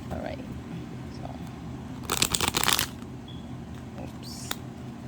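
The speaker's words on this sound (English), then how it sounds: "What is it you want to say through the shuffle?" Tarot cards being shuffled by hand, a dense papery riffling burst lasting under a second amid quiet room tone, with a few faint crinkles before and after.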